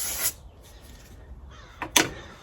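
A crow gives a couple of sharp, close caws separated by a short pause, with some faint rustling between them.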